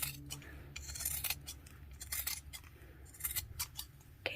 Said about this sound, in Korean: 얘를 한번 잘라 볼게요.